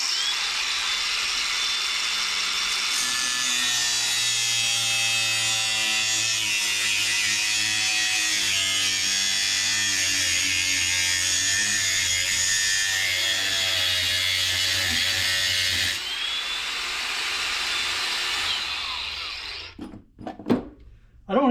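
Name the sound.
cutting along solder lines of a security DVR circuit board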